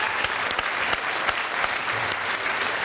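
A comedy-show studio audience claps in a steady crackle of many hands at moderate loudness, with a few sharper knocks standing out from the crowd noise.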